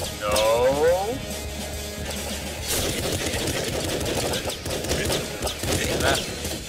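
Rapid crossbow shots in the video game Nuclear Throne, a dense run of sharp, fast firing effects layered over game sounds, with a voice talking over them.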